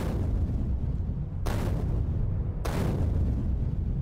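Two thrown grenades explode a little over a second apart in the video game Factorio, each a sudden broadband blast over a steady low rumbling game soundscape.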